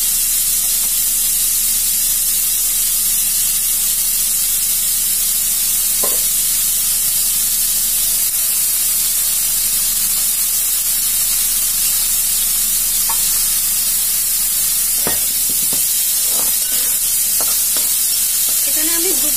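Grated radish and peas fry in a pan with a loud continuous sizzle and hiss, joined toward the end by several sharp scraping strokes of a spoon stirring, no speech.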